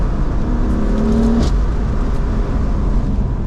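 A stage 1 tuned BMW M4 with an M-Performance exhaust gives a loud, steady engine roar close by, with a brief rising tone partway through and no talking.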